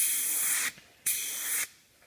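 A Paasche Talon airbrush spraying in two bursts of steady, bright hissing air, each about half a second long with a short silent gap between, close and clear with no talk.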